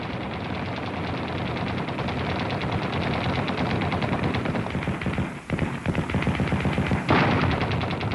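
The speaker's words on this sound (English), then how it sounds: "The sound of a machine gun under firing conditions" Sustained machine gun fire from a First World War-era weapon, a dense rapid stream of shots continuing unbroken for about eight seconds, loud and close, with a brief dip partway through before the rattle resumes.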